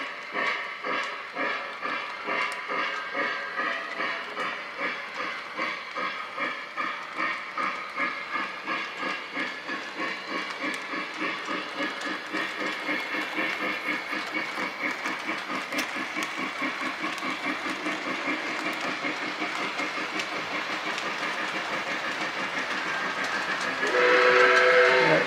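A model NKP Berkshire steam locomotive chuffs in a rapid, regular rhythm with a steady hiss of steam, the beats gradually quickening before a loud, sustained whistle blast near the end.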